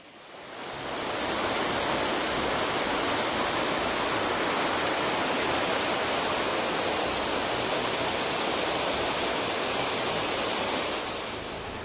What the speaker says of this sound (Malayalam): ഇതൊരു അടിപൊളി പുഴയാണ്